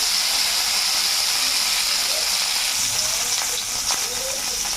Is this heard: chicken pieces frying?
yes